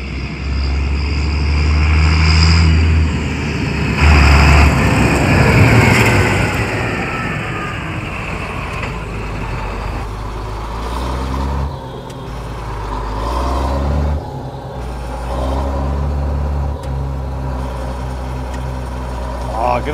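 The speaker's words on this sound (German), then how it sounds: "Wir machen, glaube ich, hier ein bisschen Trecker warm fahren. Wir machen eine kurze Feldrundfahrt" A John Deere 7810 tractor drives a lap around a field, its steady low engine drone running throughout with some louder swells early on, while people talk over it.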